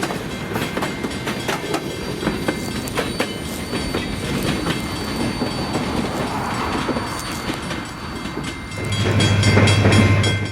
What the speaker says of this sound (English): Loads of steel coil for Pittsburgh make their way past the Stockton Depot behind a WP